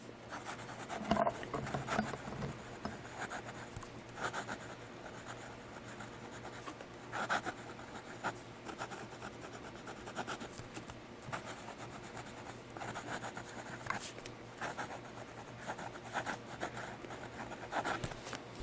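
A Lingmo Lorelei fountain pen moves across paper in soft, close scratchy strokes that come in short irregular bursts over a quiet room background.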